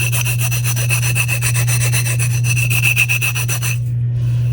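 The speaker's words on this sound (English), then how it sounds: "I just use a nail file." A nail file rubbing a resin mold clean: fast, even back-and-forth rasping strokes, loud and close over a steady low hum, stopping just before the end.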